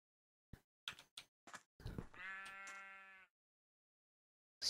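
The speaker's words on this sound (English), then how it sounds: "Watch out, sheep, you're gonna get killed." Sheep bleat in Minecraft: a few short clicks and thuds, then one clear, sustained bleat about a second long, close and alone with no talking.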